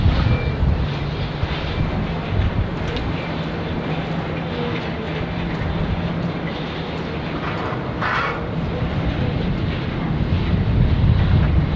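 A Hainan airliner lands on runway 16 right at Sydney Airport, heard as a loud, continuous broadband roar of jet engines and rushing air. The roar holds steady throughout, with a few brief higher whooshes over it.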